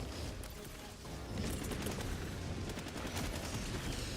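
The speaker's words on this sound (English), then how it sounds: "Throwing a Gatling barrage behind me." Gatling barrage gunfire in a video game, a dense rolling roar of rapid shots and booms that swells after the first second and stays heavy and continuous, without talking.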